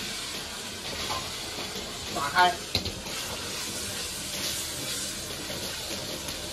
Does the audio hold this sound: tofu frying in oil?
yes